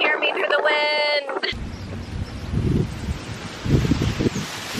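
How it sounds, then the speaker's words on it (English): Steady wind buffets the microphone with a rushing roar in Aruba, following a brief burst of talking at the start. "It is so windy here"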